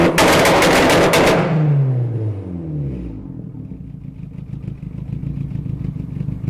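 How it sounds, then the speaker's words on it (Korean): A Mitsubishi Lancer Evolution turbo car with its anti-lag system active fires a loud, rapid string of popping bangs, then the engine note drops away and settles into a lower, rumbling idle. "이 기능이 작동될 때 뻥 하는 소리가 크게 나는 이유는 이 과정에서 생기는 폭발음 때문이죠"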